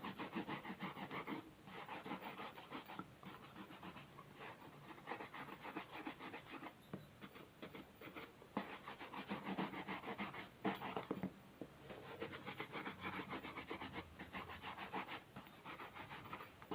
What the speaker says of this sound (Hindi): यहाँ पर जो है मैं बच्चों के शूज़ पॉलिश कर रही हूँ।